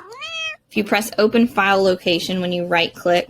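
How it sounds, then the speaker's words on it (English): A house cat gives one clear, rising-and-falling meow up close at the start, then a person speaks steadily right after it. "sorry, that was my cat."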